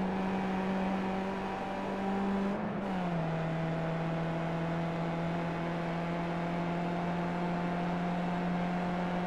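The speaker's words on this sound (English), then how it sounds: "let's ride on board with Jonas Van Werk in that number 516 car" Onboard engine of a Skip Barber race car in the iRacing sim at Lime Rock Park, a steady loud droning hum that dips in pitch briefly as the car lifts off, then holds a constant tone to the end.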